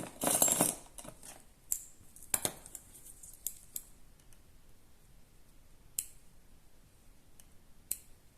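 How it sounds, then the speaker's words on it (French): Crisp, sparse snips of small scissors cutting paper, a few sharp clicks spaced apart in a quiet room, loudest at the start. "j'utilise logiquement des ciseaux très, très fins"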